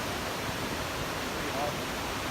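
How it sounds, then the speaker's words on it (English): A waterfall along a mountain backpacking trail in the Great Smoky Mountains sends up a steady, dense rush of falling water that fills the whole stretch without a break. "There's tons of waterfalls."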